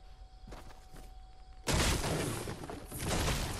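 Game gunfire from a sniper rifle with a bolt action, a loud sudden broadband blast midway through, followed by sustained noisy rumble and clatter after quieter mechanical clicks.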